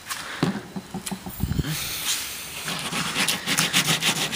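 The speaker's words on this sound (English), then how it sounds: "I'm gonna go ahead and try to scrape it off with this thing" A scraper drags rubbery Plasti Dip off a car surface after Goo Gone has soaked in, a series of close rough rubbing and scraping strokes, some short and some longer, with brief bursts and no talking.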